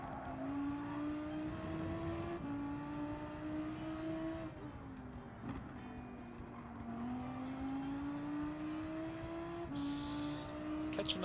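Race cars in the Gran Turismo 7 driving game drone steadily with rising engine pitch through gear changes, the revving tone climbing and dropping in repeated steps, moderately loud with no speech.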